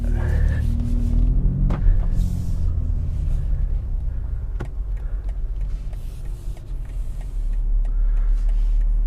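BMW X3 M F87 Competition LCI cruising on the Autobahn, a steady low engine and road rumble with tyre roar, a few faint clicks and thumps from the cabin, and no voices.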